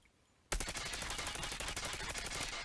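The Dingo gun in a video game fires on full auto with the recoil left uncontrolled, a sudden loud burst of rapid, evenly spaced shots that starts after a quiet half second and runs without pause to the end.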